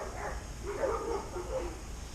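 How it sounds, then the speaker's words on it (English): Several dogs bark in the distance, a few muffled yaps and bow-wows over a steady background hum, faint and far off. "those dogs are going crazy over there"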